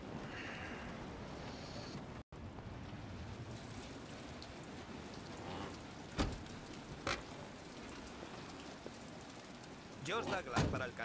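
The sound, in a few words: rain falling, from a video game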